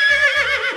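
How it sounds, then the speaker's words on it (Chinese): A horse in an animated cartoon lets out a loud, close whinny, a single bright, wavering neigh lasting under a second with no talk over it. "一声响彻整个雷泽部的马嘶声从一处黑暗中传来"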